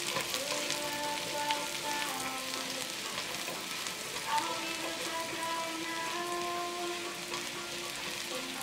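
Garlic frying in a pan for Tuscan butter shrimp pasta, giving a steady, close sizzle that crackles evenly throughout with no pauses.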